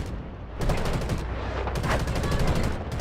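Heavy cannon and gunfire in the Delta Force video game during a tournament finals match, with loud repeated booming shots and bursts in rapid succession close up, filling the whole stretch without speech.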